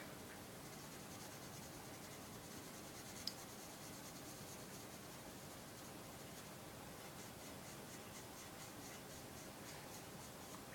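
A pencil draws and shades on paper in soft, close scratching and rubbing strokes, faint and continuous, with one small tap partway through and no voice.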